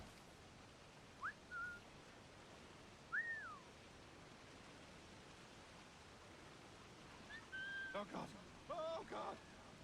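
In Assassin's Creed IV Black Flag, the character gives short two-note whistles to lure enemies, a few faint separate calls over steady rain-like ambience, then a brief cluster of whistles with a voice talking.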